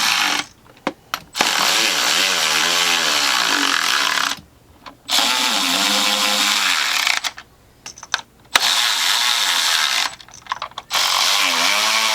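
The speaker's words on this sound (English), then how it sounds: "Then these get torqued down to 9 Newton meters." Bolts on a Jeep Pentastar 3.6L oil cooler, 2018 Grand Cherokee, being tightened with a ratcheting tool, loud rapid clicking bursts repeated several times with short pauses between, up close.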